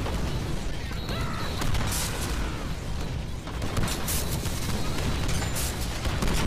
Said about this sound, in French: quoi, je vais survivre aux explosions.